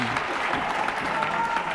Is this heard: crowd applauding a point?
yes